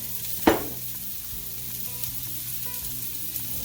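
Diced shallots hitting a hot pan with a sharp hiss at the start, settling into an even, steady sizzle of frying with faint crackles, no speech.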